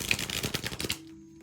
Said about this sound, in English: I'm just shuffling your cards